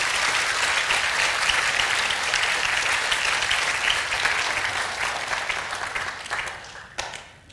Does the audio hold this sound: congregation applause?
yes